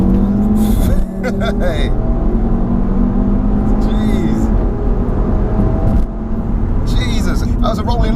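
A stage 1 Audi RS3 pulls hard through a rolling launch, its engine a steady, rising drone heard from inside the cabin beneath near-constant conversation.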